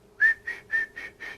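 A voice imitates high-pitched birdsong by whistling five short, clear, evenly spaced notes, close and fairly quiet, over a faint low hum, with no speech.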